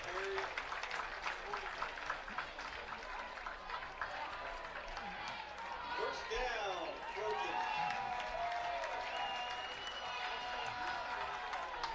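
Crowd at a high school football game between Lafayette Jeff and Chatard, a steady roar of cheering and applause from the stands that swells in the second half, with a commentator talking over it.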